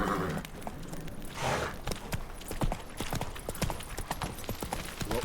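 Horse hooves clip-clop in a quick, steady rhythm in the video game Witcher 3, close and prominent, with a brief whooshing swell near the start.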